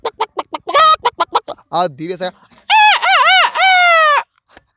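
A voice imitates a hen clucking, with quick staccato clucks followed by longer drawn-out, wavering squawks, close and loud.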